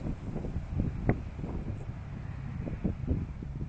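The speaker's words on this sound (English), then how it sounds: "Ooh, that's a lot of wind." Strong wind buffeting an outdoor microphone, a low rumbling roar with uneven gusts and thumps that keeps going throughout, with no voices over it.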